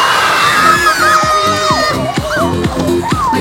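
A studio audience and jury at an Armenian comedy-league semifinal whoop and cheer loudly and continuously, with excited shouts rising over a dense crowd roar and voices calling out.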